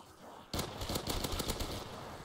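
Rapid pistol fire in a Call of Duty zombies game on a Simpsons-themed map, a quick burst of sharp repeated shots that starts suddenly and rattles on for under two seconds over game ambience.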